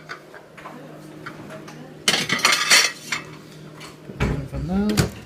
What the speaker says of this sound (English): I'm going to chuck some plates in the oven so that they